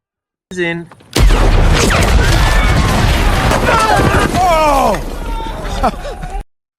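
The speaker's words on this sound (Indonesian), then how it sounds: "Satu tembakan peluru Dr. King memicu ledakan raksasa yang sangat dahsyat" A massive loud blast from a gunshot-triggered explosion in a Western film erupts and roars continuously, with crackling debris, shouting and screams mixed in amid cinematic chaos.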